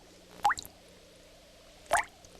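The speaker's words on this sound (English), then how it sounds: "that's a drip from the faucet in the kitchen" Two separate drops of water fall from a kitchen faucet, each a short, clear plink roughly a second and a half apart, in a quiet room with nothing else sounding.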